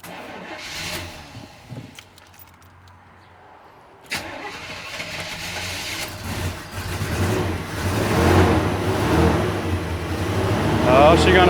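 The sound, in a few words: 1992 Chevy Blazer engine starting and running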